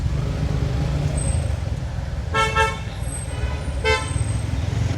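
Short car horn toots in city traffic near a stoplight, two distinct honks sounding over the steady rumble of idling and passing vehicles, heard from a motorcycle.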